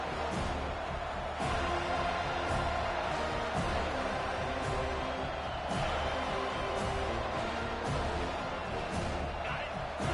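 Stadium crowd noise in an NCAA football video game dynasty swells steadily in a big moment, a thick, sustained roar with faint thuds and cheers inside it.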